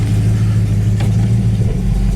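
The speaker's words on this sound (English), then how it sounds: "It's got a great idle. It's idling about 800 in park." A 1971 Plymouth GTX engine idles in park at about 800 rpm, a loud, steady, deep burbling rumble up close, with no talk.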